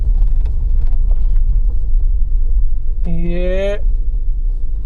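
A car being parked outside gives off a steady, close, low engine rumble throughout, with a brief tonal voice-like sound rising over it near the end.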